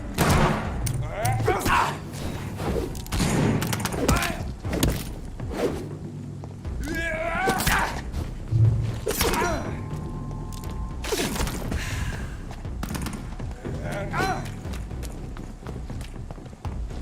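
A grenade goes off during a fight in the video game Vampyr, landing as a heavy thud amid a rapid run of gunfire, impacts and footsteps, with voices shouting over the loud, busy combat.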